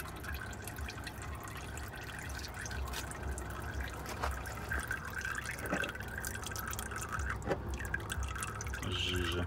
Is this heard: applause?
no